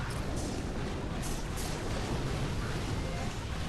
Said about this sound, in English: We'll artillery out that boom cannon.